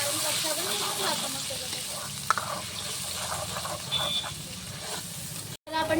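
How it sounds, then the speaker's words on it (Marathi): Ground tomatoes frying and being stirred in hot oil for a Marathi-style green masala vegetable dish, a steady close sizzle with scraping stir sounds throughout, and a brief drop near the end. "आणि त्याच्यानंतर आपण टाकू वाटलेले टमाटर। चांगल्याने हलवून घेऊ आपण तेलामध्ये"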